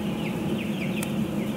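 A dense flock of broiler chickens on a farm housing about 10,000 birds clucks continuously in a close, busy din, with overlapping calls forming a steady background.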